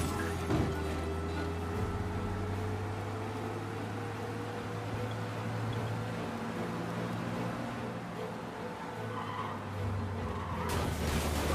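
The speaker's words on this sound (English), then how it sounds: "We lose them by driving real fast and getting clear of them." A car races away from a police chase in Mafia Definitive Edition, a steady engine drone with faint tire noise and a low hum running continuously throughout.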